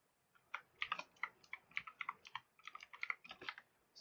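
A password is typed on a computer keyboard, a quick irregular run of close, crisp key clicks in short bursts with brief pauses.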